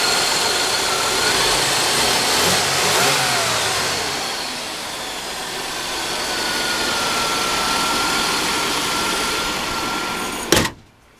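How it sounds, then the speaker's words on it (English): A 1998 Buick LeSabre's 3800 Series II V6 engine runs steadily at close range, its low rumble rising and falling slightly as it idles, ending with a sharp click. "This is a 3800 Series 2 V6."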